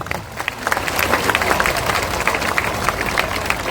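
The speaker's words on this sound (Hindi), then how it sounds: "लेकिन ताली बजा दीजिए।" An audience claps steadily throughout at a Jan Suraaj party political rally in Bihar, dense applause with crowd noise and no clear speech.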